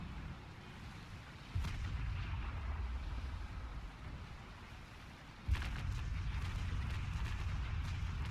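Two distant booming ship cannon shots in the naval video game Naval Action land about four seconds apart over a low, rumbling background, quiet and muffled.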